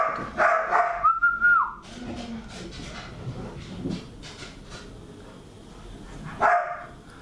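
Dogs bark playfully around a ball, one of them named Atlas, with a few sharp barks and a whistle-like whine mixed into a busy indoor room. Scattered background voices are also heard.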